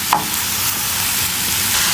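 Two onions are stirred and fried in a pan, giving a constant close sizzle broken by a sharp scrape of the spoon near the start, with no talking.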